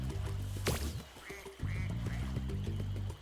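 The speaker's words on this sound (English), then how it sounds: "Oh, these ducks." Ducks quacking in the Spyro Reignited video game, a run of close, clear quacks repeating over a steady game music bed, with no talking.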